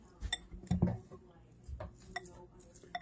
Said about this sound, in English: So let's get this stirred.